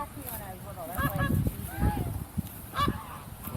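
Geese honking loudly and repeatedly at close range at a regional heritage center, with overlapping calls in bursts and people talking underneath.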